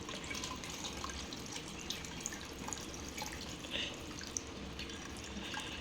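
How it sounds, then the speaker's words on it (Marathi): Cold water running from a tap and splashing steadily as homemade paneer made with lemon juice is rinsed, with occasional drips over a constant close wash. "आता मी हे धुवून घेणार थंड पाण्याने"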